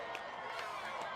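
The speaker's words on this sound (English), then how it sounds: "And the crowd goes wild" Crowd cheering and whooping as a solar eclipse reaches totality, a brief burst of distant, diffuse excited voices and cries blending together.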